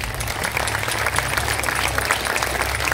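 Warm audience applause for a dance team after a stage performance, dense continuous clapping at close range throughout.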